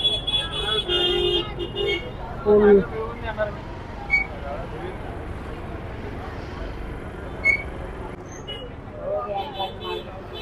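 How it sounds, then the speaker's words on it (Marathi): Traffic moving through narrow market streets in a hill town, a continuous rumble of vehicles with short horn toots scattered through it, heard under a person talking. "ट्रॅफिक पण आहे, छोटे छोटे रस्ते आहेत."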